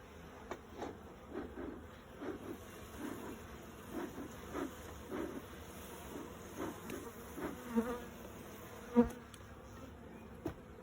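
Soft buzzing of honey bees in an open hive during a colony inspection fills the background, with a string of low, regular thumps and a few brief clicks over the steady drone; no voices.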